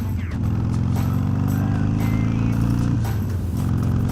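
A Harley-Davidson Iron 883 motorcycle being ridden on a road, its engine holding a steady, loud low rumble throughout with a brief dip in pitch near the end, likely a gear change, plus wind noise.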